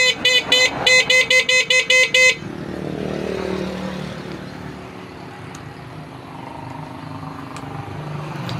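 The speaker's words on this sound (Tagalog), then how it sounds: "hindi magpapahuli yung ating busina dyan" A motorcycle horn gives about nine loud, rapid honks in a quick run while the bike is being rewired, followed by a low, steady engine and street hum.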